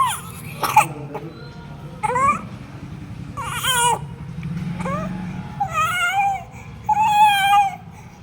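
A child coughs in harsh, distressed fits, several loud close bursts trailing into whiny, strained voiced tones between the coughs.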